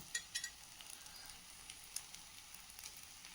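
Rava bun dosa sizzles softly in a pan over low heat, a faint, steady crackle with a few sharper pops and light stirring scrapes, and no talking.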